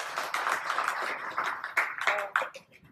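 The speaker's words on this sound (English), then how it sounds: "So a round of applause," A small audience at a dotJS 101 coding meetup claps for a round of applause, scattered uneven hand claps building briefly and then trailing off, with no talk over them.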